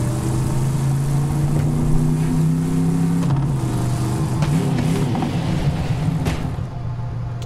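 A car engine drones steadily in Borderlands 3, with its pitch shifting as it accelerates, a loud continuous motor tone with occasional bumps and clunks of the vehicle underneath.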